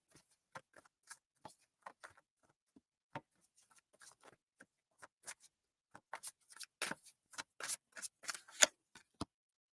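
Soft, irregular riffling and slapping of large rectangular oracle cards being shuffled by hand in a lap, sparse at first and growing busier and louder toward the end.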